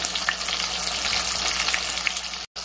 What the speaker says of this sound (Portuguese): Isso aqui já é a segunda remessa, tá? Fritando.